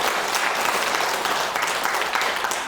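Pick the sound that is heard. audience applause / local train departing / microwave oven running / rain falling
audience applause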